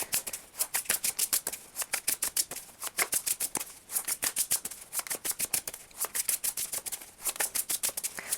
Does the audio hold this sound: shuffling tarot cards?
yes